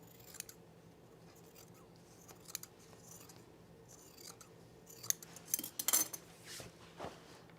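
Scissors snip and trim fabric at a French seam on cargo shorts, with sparse quiet cuts early and a brisk cluster of sharp metallic snips near the end, close up with no talking.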